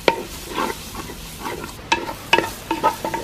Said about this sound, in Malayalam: ഇളക്കാം.